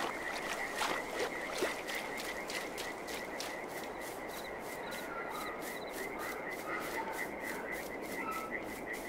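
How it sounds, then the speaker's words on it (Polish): Frogs croak in Farming Simulator 22 near a willow, a rapid rhythmic chorus of repeated croaks that stays faint and even throughout, with no talk over it. "O, żaby chodzą sobie."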